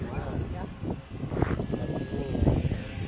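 A small model airplane comes in to land in the Sonoran desert, its faint engine drone almost lost beneath people talking nearby and wind outdoors.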